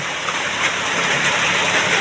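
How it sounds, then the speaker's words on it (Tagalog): Steady, dense rain hisses continuously, a broad wash of falling water with no pauses and no other sounds standing out. "So grabe yung ulan. Hindi talaga nagtigil."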